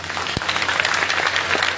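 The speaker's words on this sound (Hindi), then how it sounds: "तालियों के साथ स्वागत करें" Steady, dense applause from a school audience at a public school launching event, a continuous clapping roar with one sharp thump near the start.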